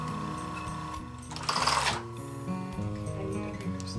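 A sewing machine stitches fabric for a tote bag in quick mechanical bursts, its rhythmic whirring and ticking needle starting and stopping several times, close and clear with no voices.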